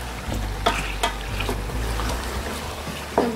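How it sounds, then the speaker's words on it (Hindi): Nalli gosht, a heavy beef bones curry, is stirred and sautéed in a pan with a steady low sizzle. A few sharp scrapes of the spoon stand out against a constant rumble of background noise. "और हम इसको तकरीबन 5 मिनट इस तरह से भुनेंगे"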